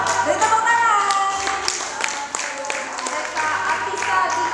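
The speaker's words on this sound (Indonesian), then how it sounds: "Beri tepuk tangan." Applause for the winners of a school health competition, a steady wash of clapping from an audience with some taps, under a background of music or announcer noise.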